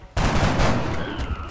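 A gunshot in the video game XCOM: Enemy Unknown: one sharp, loud blast that starts abruptly and rings out into a noisy, decaying tail over about a second.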